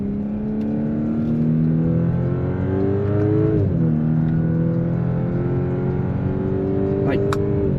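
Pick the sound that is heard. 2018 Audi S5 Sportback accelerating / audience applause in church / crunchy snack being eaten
2018 Audi S5 Sportback accelerating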